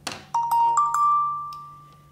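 A phone ringtone chimes a few quick rising notes, then holds a long sustained tone that slowly fades out, loud and alone.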